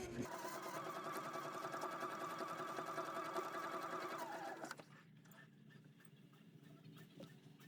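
A sewing machine stitches quilt block pieces together with a fast, steady mechanical whir up close for several seconds, then stops abruptly, leaving quiet room sound with faint rustles.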